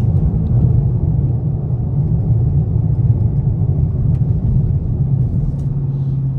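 A steady low rumble fills the cabin of a Dodge Charger 392 Scat Pack driving over a bumpy road, with a constant close engine and road drone and no talk.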